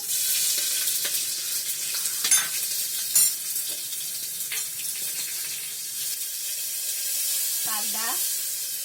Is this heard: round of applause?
no